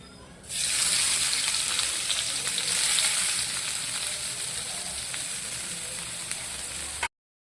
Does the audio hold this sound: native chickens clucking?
no